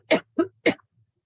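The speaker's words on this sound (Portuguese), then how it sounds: "estou com uma tosse." Three quick, sharp coughs from an adult, close to the microphone and evenly spaced, each a short burst followed by silence.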